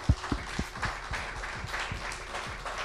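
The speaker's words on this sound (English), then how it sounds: "give me a little round of applause for those guys" Brief burst of clapping from a small studio audience at an esports grand final, a sharp clap at the start followed by scattered, uneven claps.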